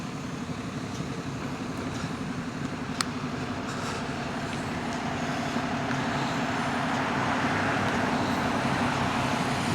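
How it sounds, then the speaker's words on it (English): Steady roadway traffic on a wide London street beside a lorry, a continuous close engine rumble and tyre hiss that swells slightly toward the end, with no voices. "I'm just going to try and get the other side of this lorry"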